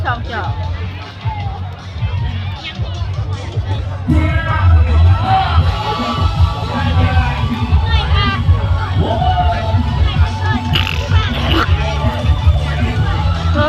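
Crowd cheering and shouting at the Bun Phawet merit festival in Ban Phon Muang, a dense, loud continuous roar of voices with children yelling and whoops, swelling louder partway through over a steady low rumble.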